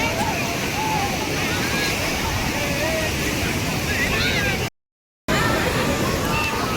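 Ocean surf at Vagator Beach, Goa, a steady broad wash of waves mixed with wind buffeting on the microphone and distant crowd babble, continuous and fairly loud, broken by one brief dropout.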